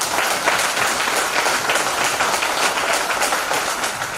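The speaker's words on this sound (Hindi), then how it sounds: "तो आप सभी के लिए एक जोरदार ताली हो जाए।" An audience at a speech event bursts into loud, dense clapping that holds steady for a few seconds, close and continuous, with no one speaking.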